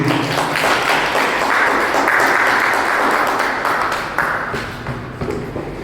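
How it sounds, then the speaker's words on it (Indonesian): An audience at a literary discussion event applauds a speaker, a loud and steady round of clapping from a room full of people that slowly tapers off toward the end. "Tepuk tangan saya minta untuk Ibu Yunite."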